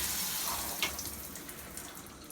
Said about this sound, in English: I'm going to try the what's that called? The rain shower now.